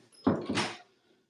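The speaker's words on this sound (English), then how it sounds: "Close the door, baby." A door swings shut indoors with a single muffled thud followed by a brief rattle, close by, then quiet.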